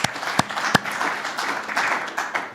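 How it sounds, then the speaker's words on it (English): Seminar audience applauds in a warm, steady patter, with a few sharp individual claps standing out near the start. "Let's have a warm round of applause for all the people"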